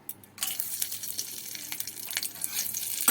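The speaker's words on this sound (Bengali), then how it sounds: "শুকনো লঙ্কাগুলো ভালো করে ভেজে নেব।" Dried red chillies frying in hot, smoking oil: a steady, close, moderately quiet hiss and crackle that starts after a short pause, with small pops scattered throughout.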